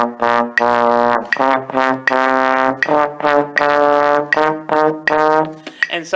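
Low brass plays a warm-up pattern of two eighth notes and a quarter note on each pitch, with repeated detached notes in a steady rhythm. The playing is loud, close and full-toned, with short gaps between groups.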